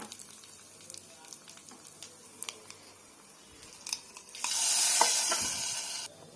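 Cutlets sizzle in a pan, first as scattered quiet clicks and taps of utensils, then a louder, steady frying hiss that rises for a couple of seconds near the end before cutting off.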